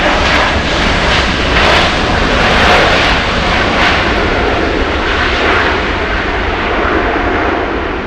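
A JetBlue jet roars down runway 24 left at Los Angeles International on its takeoff roll, a loud, steady broadband engine rush that holds without a break.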